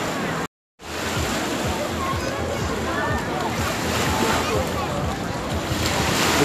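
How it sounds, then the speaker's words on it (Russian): Surf rolls steadily onto Golden Coast beach in Odesa, a dense, continuous wash of waves with wind buffeting the microphone, broken only by a brief dropout near the start. "Приехали на пляж Золотой берег."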